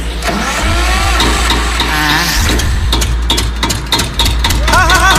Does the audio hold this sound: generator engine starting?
yes